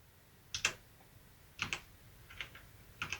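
Keys clack on a Gamepower Overlord mechanical keyboard in close, sparse pairs of presses, four small bursts spaced about a second apart over quiet background hiss.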